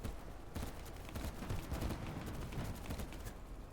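Rapid volleys of gunfire in a video game, dense and continuous at moderate level, sounding like a flurry of shots fired at a target with no voices over them.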